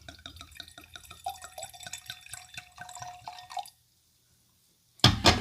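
Apothic red wine pours from the bottle into a glass with a bubbling, gurgling trickle for several seconds, ending abruptly, followed by a short loud knock or clunk after a brief silence.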